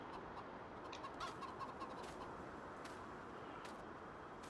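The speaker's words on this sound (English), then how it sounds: "let's go ahead and feed these chickens." Faint clucking from a flock of chickens in a farming video game under a steady noisy background, with a few soft scattered calls.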